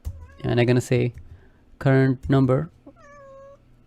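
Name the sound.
cat meowing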